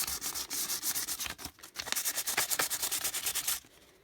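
Sandpaper rubbed back and forth on a craft jar makes a rhythmic scratchy rasp, a rapid run of close strokes with a short break near the middle, then a few more strokes before it stops, no voices.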